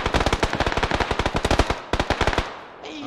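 Automatic gunfire in PUBG rattles off in rapid bursts, loud and close, with a short pause midway and a brief trailing noise at the end.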